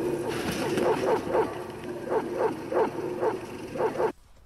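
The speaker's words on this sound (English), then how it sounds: "This is a dog." A dog from a gory horror film gives a series of about ten rhythmic barks and yelps, evenly spaced and fairly close, with a rough, noisy background, before they stop abruptly.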